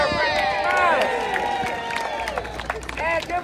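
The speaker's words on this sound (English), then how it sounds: "how about one more big round of applause for our friend" A theme park crowd at Magic Kingdom applauds and cheers for Mickey Mouse, a steady mass of clapping and shouts close by, with whistles and voices rising through it before it thins slightly toward the end.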